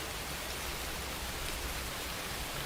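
Steady rain falls in a dense, even hiss without a break, close and fairly loud, with no voices.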